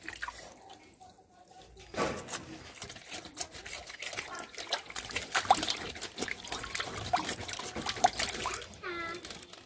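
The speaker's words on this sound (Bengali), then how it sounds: "মাছটা ধোয়া হয়ে গেল, সুন্দর পরিষ্কার করে মাছটা ধুয়ে নিতে।" Fish is washed by hand in water for a home-style golden fish kaliya, with close trickling, splashing and dripping that grows busier partway through, with handling noises mixed in.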